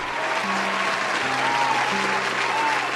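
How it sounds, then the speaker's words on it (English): Steady, dense applause from a crowd that continues evenly for about three seconds, with faint tonal sounds drifting through it. "I want to give the brothers a round of applause"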